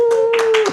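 A few quick hand claps, spaced irregularly, ring out over a steady sustained tone during a tabletop board game session of Betrayal at the House on the Hill.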